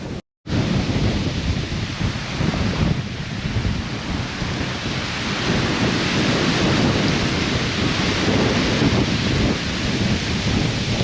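A loud thunderstorm at a campsite on the Eyre Peninsula in South Australia: heavy, steady rain pours down with continuous deep thunder rumbling beneath it, close and enveloping, with no voices.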